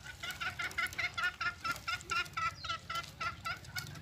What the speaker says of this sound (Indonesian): itu ayam hutannya ya